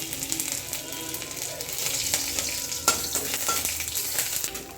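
Dried red chili dropped into hot oil for vegetarian ghugni, crackling and sizzling loudly and continuously, with a sharp spitting burst partway through and no talk.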